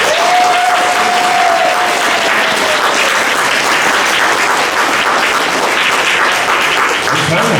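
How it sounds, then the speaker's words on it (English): Loud, steady applause fills the room from an audience cheering on talent show participants at a summer talent show, continuous clapping throughout with a faint whistle-like tone early on. "Can we give all of the participants a big round of applause?"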